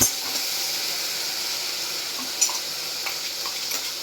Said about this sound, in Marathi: आपण जे वाटलं आहे वाटण केलेलं आहे हिरवं वाटण ते छान परतून घ्यायचं